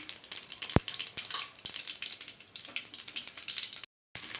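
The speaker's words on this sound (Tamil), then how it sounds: "இந்த எண்ணெய் சூடானதும் இதில் கடுகு கொஞ்சம் போட்டுக்கலாம் கொஞ்சம் உளுந்து ஜீரகம் கொஞ்சம் சேர்த்துக்கலாம்" Mustard seeds, urad dal and cumin sizzle in hot oil for a kothavarangai curry, with a crackling, uneven fizz broken by sharp pops and one loud snap near the start.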